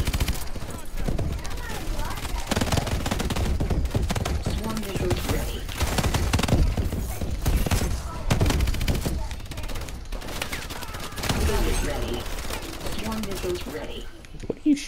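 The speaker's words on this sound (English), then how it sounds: "What are you shooting at, Gideon?" Rapid, sustained gunfire in the video game Call of Duty: Advanced Warfare, loud bursts of shots packed close together across the whole stretch, with voices talking over the shooting.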